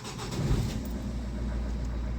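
A 2005 Opel Astra H with a 1.7 diesel engine is revved, producing a loud, steady low-frequency engine drone with a slight rise early on and continuous rumble throughout, no talking.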